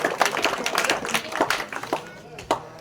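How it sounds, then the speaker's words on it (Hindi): An audience at a rural political gathering honouring sarpanch Yogesh breaks into brisk, irregular clapping, a modest burst of applause close by with some voices mixed in. "वो आए और समझ साथ ही जोरदार ताली बजा के सम्मान करेंगे"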